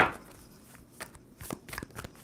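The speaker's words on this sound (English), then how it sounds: "2 more shuffles for Scorpio." A deck of tarot cards is shuffled with a few quick, soft riffling and snapping bursts, close and quiet, with no talk.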